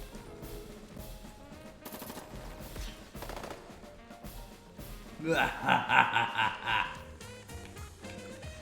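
Chattering machine gun fire from the Advance Wars 2: Black Hole Rising video game rattles out in a dense burst of about a second and a half over steady game music.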